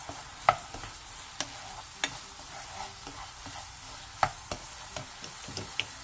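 Fish cakes and onion stir-fried in a pan over medium-low heat, with soft scraping stirs and light clicks of a utensil against the pan over a faint steady sizzle, no voices.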